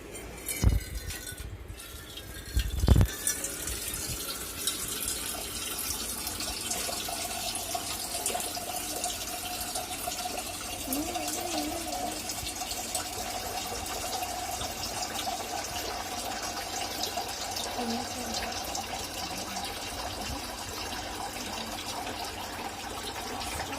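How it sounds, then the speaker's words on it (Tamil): Tap water runs steadily into a pot for boiling potatoes in a home kitchen, a continuous gushing stream lasting throughout after a couple of sharp knocks at the start, with no talking. "இப்போ நம்ம பாயில் பண்றதுக்கு தண்ணி எடுக்கிறோம்."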